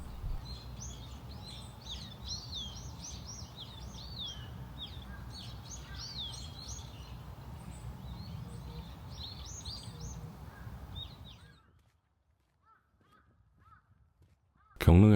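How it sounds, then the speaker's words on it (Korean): Crows caw repeatedly over steady birdsong and chirping at the grounds of a Joseon royal tomb in Guri, the calls dense and layered for most of the stretch before falling away to near silence with a few distant chirps. "잠시 새소리를 듣기 위해 쉬었다 갑니다."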